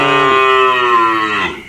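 A single loud, close cow moo at a cattle farm in Vietnam, a long drawn-out call that fades at the end, heard alone.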